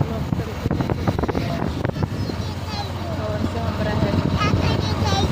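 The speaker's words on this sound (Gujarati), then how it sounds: "સંભળાયો શું પવન" Wind blowing outdoors near a village rabbit farm, a continuous rumbling buffet against the microphone that grows stronger toward the end, with people talking over it.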